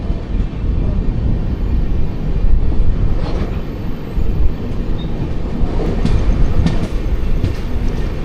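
Inside the Garib Rath Express, an AC Economy train, as it rolls into Coimbatore Junction: a steady, loud rumble of the carriage with faint wheel clicks throughout, no talking.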